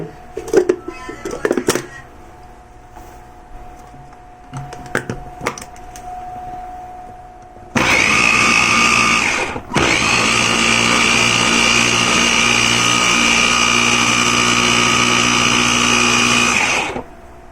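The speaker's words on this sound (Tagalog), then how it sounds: "Blender ulit natin." A kitchen blender whirs loudly and steadily, blending banana coffee, starting abruptly after some quiet handling noises, pausing briefly for a second, then running on at full strength before cutting off at the end.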